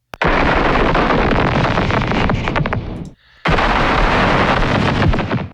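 Dense burst sound effects from the MALFORM sample pack: a harsh, loud wall of crackling noise that cuts off abruptly, leaves a short near-silent gap, then slams back in before stopping.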